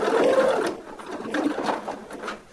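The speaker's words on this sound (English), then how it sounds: "My good wife is sewing this for me, just so I can show everyone else how it should be done." A sewing machine stitches a pad holder for a Wagtail squeegee, its motor whirring in short close bursts that speed up and pause.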